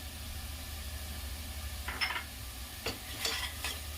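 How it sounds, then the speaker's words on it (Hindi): Coarsely chopped onions fry in a pan with a low, steady sizzle, while a few brisk stirring scrapes come close in the second half. "ये प्याज बड़ा बड़ा प्याज काट के रखी हूँ, इसे भूनूंगी"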